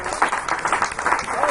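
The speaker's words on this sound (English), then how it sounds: "let's clap our hands." A crowd claps steadily at a ministers' meeting in Kumba, Cameroon, the applause mixed with voices talking over it.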